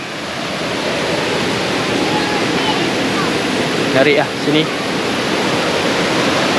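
Steady broadband rush of a stream flowing just beside a forest campsite, constant and close, with someone speaking briefly over it.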